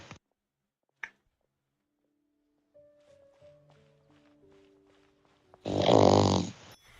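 A dog gives a loud, close burst of snorting lasting about a second and a half, following a stretch of quiet with faint tones and light movement.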